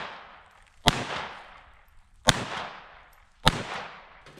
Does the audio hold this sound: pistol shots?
yes